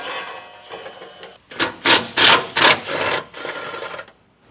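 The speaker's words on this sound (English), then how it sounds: "We'll take a 13mm socket and remove the two bolts that are holding this heat shield in place." A 13mm socket ratchet turning out heat shield bolts, a burst of five or six quick, loud clicking pulls close up, followed by a softer stretch of ratcheting and then quiet.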